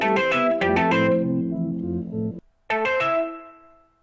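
Distorted electric guitar chords through overdrive and reverb ring out and sustain, cut off briefly, then a final strummed chord decays with a reverberant tail.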